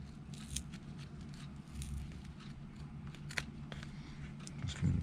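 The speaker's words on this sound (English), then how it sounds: "I need to pull that apart as we're cutting the stitches" Scissors snipping through the stitching of a calf-high leather boot, the seam also held with double-faced tape, giving faint, sparse clicks and soft tearing over a low room hum, with no talk.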